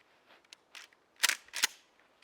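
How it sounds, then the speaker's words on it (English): Two sharp, loud reports from a firearm being test-fired with a different buttstock, about a third of a second apart, each a brief crack over a quiet background. "we're going to shoot that same weapon, just with a different butt"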